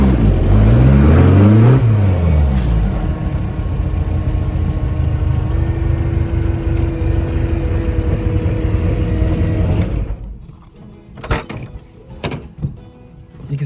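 A homemade 12-second drag car on its first drive of the year, its engine loud and continuous with a rising rev sweep near the start, then dropping away to quieter mechanical clunks and rattles toward the end.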